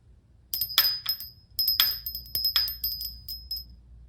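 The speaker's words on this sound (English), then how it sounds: "My very first bell." A small bell rings several times in quick bright strikes, each ringing on briefly, close and clear against a quiet background.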